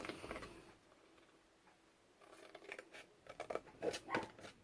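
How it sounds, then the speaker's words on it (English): Quiet, close snips of scissors cutting the corners of a paper mini album, a few crisp cuts clustered toward the end, with soft handling noise in between. "I'm just gonna come with my scissors here and take this one out"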